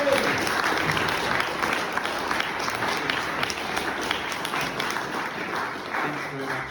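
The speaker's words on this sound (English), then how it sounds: "Please give a round of applause to Shabbir Lakha." Audience applause for a speaker at a political rally against militarism and austerity, a steady dense crowd of clapping with cheering that holds evenly throughout.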